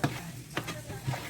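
Red herring stirred into a sizzling sauce in a pan, soft scraping strokes over a low sizzle, close and quiet, a few brief stirring bursts with no talking.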